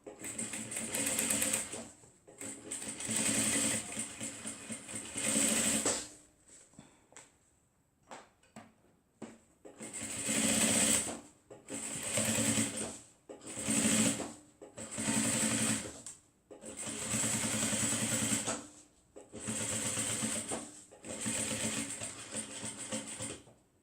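A sewing machine back-stitches the seam of a foldover bag in loud, close bursts of rapid needle chatter, stopping and starting several times with short quiet gaps and a brief break of lighter clicks midway.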